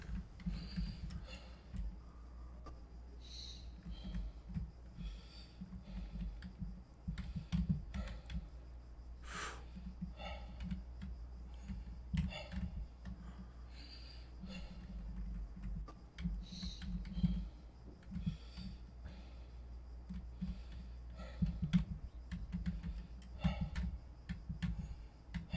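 Computer keyboard keys clatter quietly and steadily during a horror game called Bloody Room, with irregular taps and quick bursts in a fairly close, soft run that lasts throughout.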